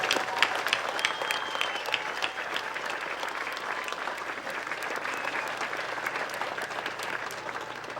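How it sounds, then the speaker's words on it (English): An audience at a spring commencement ceremony applauds steadily, dense continuous clapping from a large crowd filling the hall, sustained at even loudness. "Audience, please join me in applauding all these candidates for their academic accomplishments."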